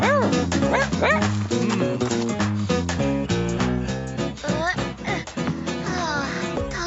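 A dog yaps and whimpers in quick, high-pitched bursts over background music, close and fairly loud.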